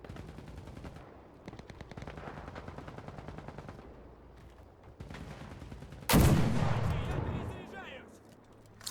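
Rapid machine-gun bursts crackle through a tank battle in a video game, followed by a loud, booming tank cannon shot that rumbles and decays for a couple of seconds.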